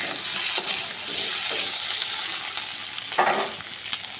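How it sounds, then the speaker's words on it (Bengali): Potatoes frying in oil in a pan for a spicy duck-egg dish, a steady close hiss of sizzling with a few brief scraping stirs and no talk. "আমি আলুগুলো একটু ভেজে নেব।"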